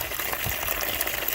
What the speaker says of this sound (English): I'm going to run some water into our bucket here